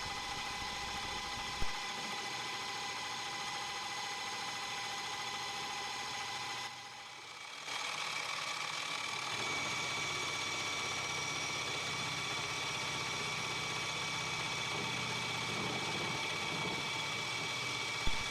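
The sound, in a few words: boring head making a heavy cut in 6061 T6 aluminum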